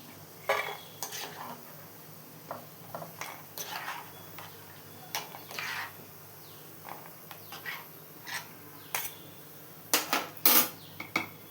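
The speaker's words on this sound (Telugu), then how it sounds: "ఇప్పుడు దీంట్లోకి కొన్ని జీడిపప్పుల్ని వేయించి పెట్టుకోవాలి" Cashew nuts frying in a pan for boondi laddu, stirred with a utensil in short scraping clinks and taps scattered irregularly over a quiet, faint sizzle, close by with no talk.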